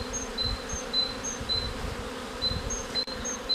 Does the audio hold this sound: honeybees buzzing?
yes